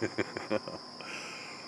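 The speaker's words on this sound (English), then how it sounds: "these buggers are bugging me as they buzz around" A steady, high insect drone, like crickets or buzzing bugs, hums outdoors throughout, with a few short louder sounds that may be a voice near the start.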